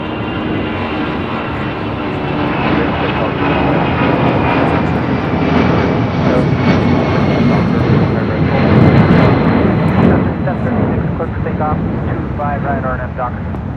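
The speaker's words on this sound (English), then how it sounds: "8949 taking off to Phoenix on a 757-200" A Delta Airlines Boeing 757-200 takes off at LAX with a loud, sustained engine roar lasting throughout, and people talking over it.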